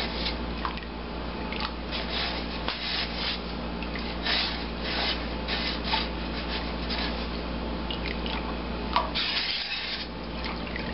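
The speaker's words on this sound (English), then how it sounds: "make sure that you keep stirring this until it is fully dissolved, especially if you have a flame underneath it." Thick liquid is stirred in a pot over a flame while brewing beer, making continuous close sloshing and scraping with small splashy bursts, steady throughout and without talking.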